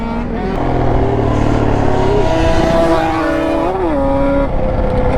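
A race-tuned Banshee quad (ATV) revs hard nearby, its loud buzzing two-stroke engine note climbing and dipping in pitch continuously.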